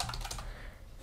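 Quick typing on a computer keyboard as a channel name is entered, a brief run of soft, rapid clicks at low volume with no voices.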